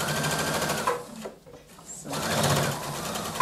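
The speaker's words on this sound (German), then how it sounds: "Und dann nähe ich einfach weiter." A domestic sewing machine stitching a zipper into fabric runs in a steady fast whir, pauses briefly mid-clip, then resumes stitching, with a short spoken word in between.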